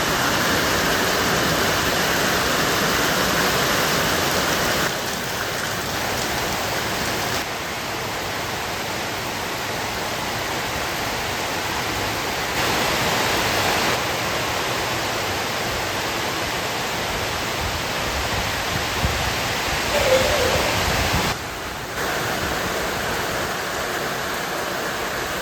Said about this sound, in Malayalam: അപ്പോൾ ഏതായാലും നല്ല ഗംഭീര മഴയാണ്.